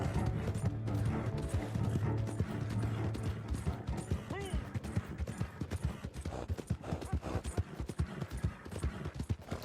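Horse hooves galloping in Red Dead Redemption 2 Online, a steady rapid clip-clop rhythm that grows more distinct in the second half, with game music and a voice talking over it.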